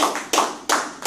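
Church congregation clapping in praise, three quick loud bursts of applause close by over about a second.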